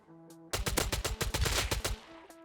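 Rapid automatic gunfire from a gun in the survival game Rust, a loud close burst of about a dozen quick shots lasting over a second, with a single faint shot just before the burst and another after it.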